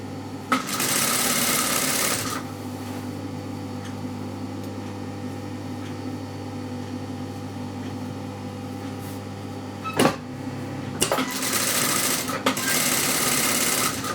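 A sewing machine stitches two fabric pieces together along a curved seam in two short, loud, close bursts of motor whir, with a quieter steady hum and a sharp click in between.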